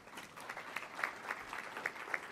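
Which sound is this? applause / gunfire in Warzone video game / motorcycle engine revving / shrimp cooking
applause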